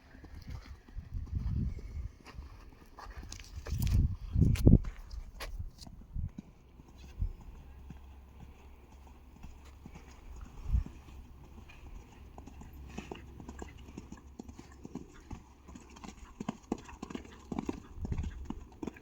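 Horse hooves clip-clop in a riding arena during jumping practice, a loose, uneven series of dull thuds, louder in a burst early on, then softer and sparser, with faint background noise and no voices.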